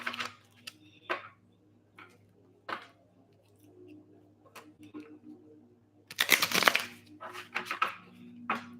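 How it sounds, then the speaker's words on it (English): Scattered clicks and taps of tarot cards being handled, then a brief loud riffling burst as the deck is shuffled nearby, followed by more light card snaps. "We'll give this, they like 2 or 3 shuffles with this one"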